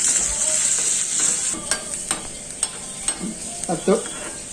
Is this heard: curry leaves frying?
yes